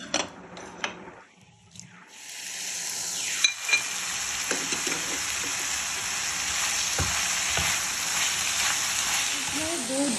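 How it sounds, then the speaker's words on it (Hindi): Vegetables sizzle and fry in hot oil in a pan, a steady broadband hiss after a brief quieter moment near the start, with occasional stirring clinks and a few faint voice-like sounds. "बाकी ऑयल है वो उसी बर्तन में आप डाल दें और सब्जियां डालनी शुरू करें"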